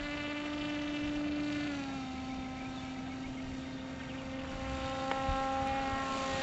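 A Hawkeye camera model plane's propeller engine drones steadily in flight, a sustained buzzing whine that dips slightly in pitch as the throttle shifts, with no talking.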